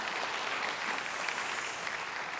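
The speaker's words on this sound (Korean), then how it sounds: "박수 부탁드리겠습니다" Audience applause fills a Korean entrepreneurship concert and awards ceremony, a steady, dense clapping from a crowd that holds evenly throughout with no talk over it.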